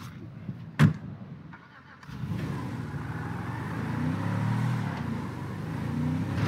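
A car engine in GTA 5 starts up after a door thump and a sharp knock, then runs and revs steadily at moderate loudness with some ambient rumble. No one speaks over it.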